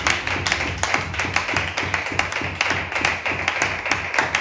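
Church congregation clapping together in steady rhythmic praise, sharp regular claps repeating about every quarter second, loud and close, without speech.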